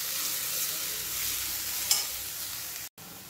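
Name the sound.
sautéing peanuts and poha in a pan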